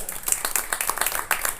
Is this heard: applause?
yes